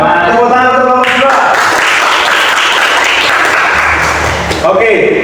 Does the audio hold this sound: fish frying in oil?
no